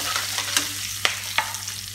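Curry leaves and turmeric dropped into hot oil with mustard seeds, urad dal and chana dal for an ivy gourd palya tempering, giving a close, steady sizzle broken by a few sharp crackling pops.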